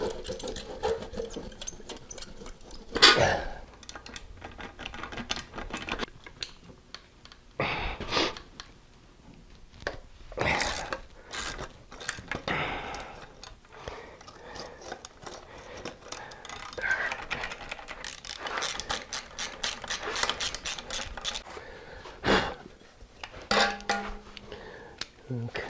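A ratchet wrench works on the distributor hold-down bolt of a Dauntless V6 engine, with bursts of rapid clicking interspersed with clanks and quiet pauses, close up over about twenty-five seconds.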